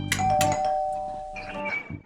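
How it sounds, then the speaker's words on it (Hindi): A household doorbell rings with a clear electronic chime, sustained tones that fade and then a second chime, heard close and loud. "घंटी बज रही है, आते हैं।"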